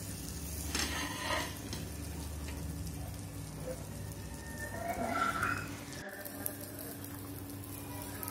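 An egg paratha frying in a pan on the stove gives a soft, steady sizzle, faint and continuous, with a few quiet stirring and shuffling touches and no talking.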